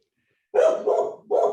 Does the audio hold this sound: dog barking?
yes